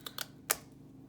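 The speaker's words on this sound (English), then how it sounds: "It's really easy to cut out little triangles." Scissors snip through cardboard to cut small triangle shapes for a relief sculpture: three short, crisp cuts close by in a quiet room, two quick ones followed by a slightly louder one.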